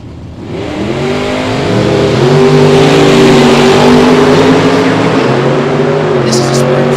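Drag race cars at a Spring Fling bracket race, including a 69 Nova, roar down the strip in a loud, sustained acceleration with rising engine harmonics, under a continuous announcer's voice.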